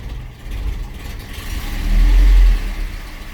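A Datsun engine, just back from an engine bay overhaul, idles at close range and swells into one brief rev before dropping back to idle, with no talking.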